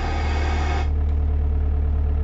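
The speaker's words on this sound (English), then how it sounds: "Our engine is on." An Opel Astra G with a 1.7 Isuzu diesel engine runs at a steady idle, heard close up as a continuous low rumble with a slight shift in tone early on and no voices.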